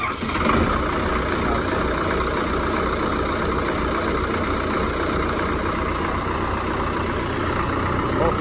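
A Farmtrac tractor engine idling nearby, a loud, steady, low rumbling drone running without a break for the whole stretch, with no talking over it.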